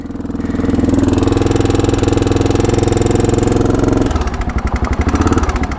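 A 40-year-old Honda dual sport motorcycle idles close by with a loud, steady thumping single-cylinder rhythm, then the pulse turns choppier and uneven near the end.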